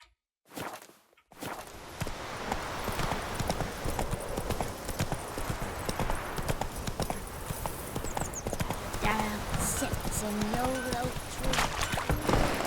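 Horse hooves clip-clop steadily along in The Witcher 3: Wild Hunt, a close, continuous walking rhythm that runs for most of the stretch with a voice talking over it.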